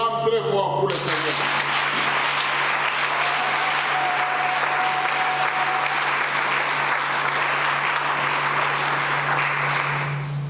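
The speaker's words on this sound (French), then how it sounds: "Acclame très fort pour le Seigneur." A church congregation applauds loudly during a French-language worship service, with sustained crowd clapping and a steady low hum under it. A voice cuts off at the very start.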